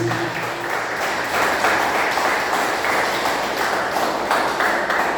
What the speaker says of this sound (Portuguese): E aplauda o Senhor Jesus.